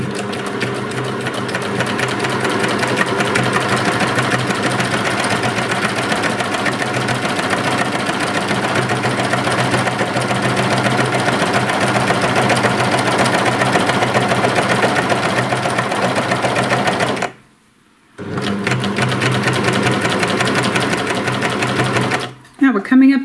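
Sewing machine fitted with size 90 needles stitching a binding strip onto shorts, a loud steady close-up whirring hum that runs continuously, stops briefly, resumes and halts again near the end; a voice talks over it.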